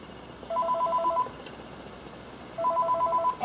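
A phone rings in Five Nights at Freddy's 3 with two bursts of rapid trilling electronic tones separated by a pause, clear over a quiet hum.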